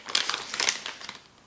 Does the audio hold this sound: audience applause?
no